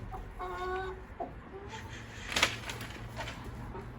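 A hen clucks and cackles in short bursts nearby, with a louder squawk midway and quieter clucks trailing off over low background hum.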